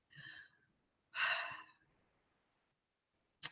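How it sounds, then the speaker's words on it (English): A person takes slow, deliberate breaths, an airy inhale followed by a longer, louder sighing exhale, then a brief sharp sniff at the end, all close and isolated in silence. "Take a deep breath with me."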